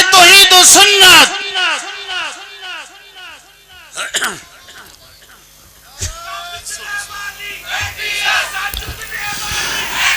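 At a religious ijtema gathering in Gujrat, a single loud voice calls out in long, drawn-out rising cries, then after a pause a large crowd answers with a rough, swelling roar of shouting.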